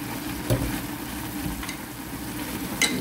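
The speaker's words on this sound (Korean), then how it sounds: "뚜껑 열고 콩나물하고 어묵을 골고루 섞어주세요." Fish cake and bean sprouts being stir-fried in a pan, with steady sizzling and scraping from stirring plus a few sharp clinks of utensil on pan.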